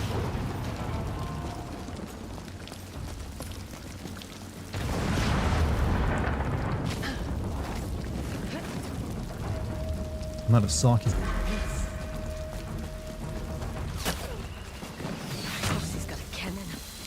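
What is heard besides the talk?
cannon fire in the video game Ghost of Yotei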